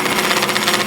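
A chisel chattering as it cuts aluminum on a machine, a loud, close, rapid buzzing rattle of fast repeated pulses that runs steadily through the short moment.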